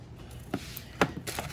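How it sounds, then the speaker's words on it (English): A small paring knife cuts through vegetables on a kitchen board, producing three or four sharp, close taps at irregular intervals over a quiet background. "I know I should be using a big chopping knife, but use this little paring knife."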